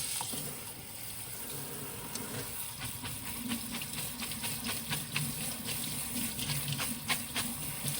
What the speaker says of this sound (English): Rinse this off with some cold water.